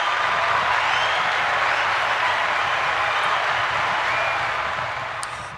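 An audience applauding, with dense sustained clapping from many hands that holds steady for several seconds before easing off toward the end.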